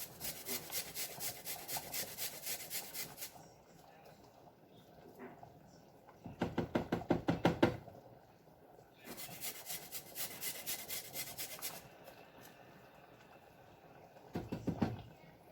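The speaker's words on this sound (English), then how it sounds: "We're going to grate in about a teaspoon of fresh ginger." Fresh ginger is grated for a Thai coconut curry chicken soup in quick rhythmic scraping bursts, several seconds each, separated by pauses, close and fairly soft with no talking.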